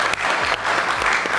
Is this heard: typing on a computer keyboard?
no